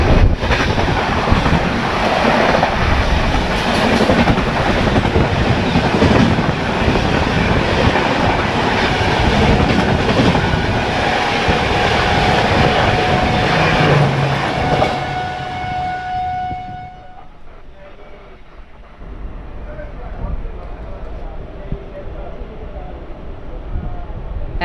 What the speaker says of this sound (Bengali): ধেয়ে আসছে কন্যাকুমারী ডিব্রুগড় বিবেক সুপারফাস্ট এক্সপ্রেস